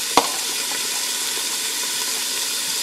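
Green peppers and onions sweating down in a pot for chili verde, giving a steady soft sizzle and hiss throughout, with one sharp clank near the start.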